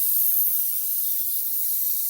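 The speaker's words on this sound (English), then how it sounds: "I am going to spray the water out of here." An airbrush gun held at full trigger sprays water out in a steady, loud, unbroken hiss lasting the whole moment, close up and without talk.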